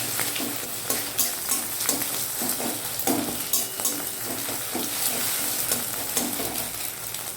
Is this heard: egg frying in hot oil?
yes